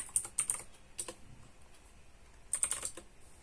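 Someone types a terminal command on a computer keyboard, producing soft close key clicks in two short bursts separated by a quiet pause, with no talking.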